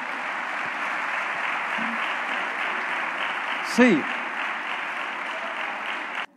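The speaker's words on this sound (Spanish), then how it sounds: "Dele un aplauso a Dios." A church congregation applauds steadily at a sermon, the clapping dense and sustained throughout, with a brief spoken word from a voice partway through before the applause cuts off at the end.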